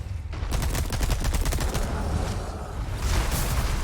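Rapid video game gunfire, a dense fusillade of shots and bursts that keeps going loud and steady for the whole stretch, with no talking over it.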